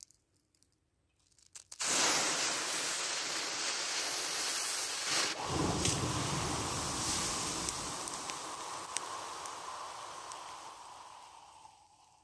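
A firelance packed with black powder ignites after a few faint clicks, breaking into a loud, harsh, sustained hissing roar that burns steadily for about ten seconds before tapering.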